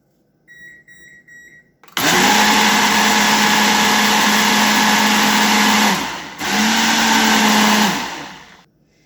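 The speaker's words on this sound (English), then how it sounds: "So I'm going to get that blended up, and then I'll bring you back." Blender whirring loudly while blending bananas, milk, rum extract and vanilla, running in two bursts of about four seconds and two seconds with a brief pause between, preceded by a few short beeps.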